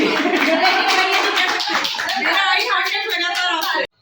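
Hand clapping from a small audience at a poetry gathering, close and fairly loud under voices, and cut off abruptly at the end.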